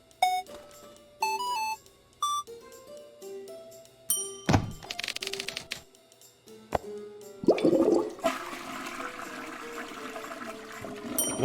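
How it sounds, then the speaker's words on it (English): A virtual toilet flushes in the VR game Taskmaster VR, a rushing watery swirl lasting several seconds after a string of chimes, clunks and electronic tones; there is no talking. "Flush the toilet."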